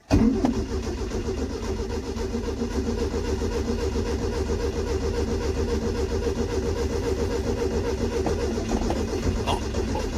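Datsun 120Y engine cranking over and over as the starter winds steadily without the engine catching, a loud, rhythmic, close-up churning that continues throughout the clip.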